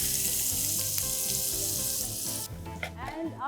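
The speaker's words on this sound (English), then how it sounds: "And after you add in the onion, we'll saute this up" Onions for potato bhaji sauté in a hot pan with a loud, close, continuous sizzle, stirred with some scraping, the hiss easing slightly toward the end.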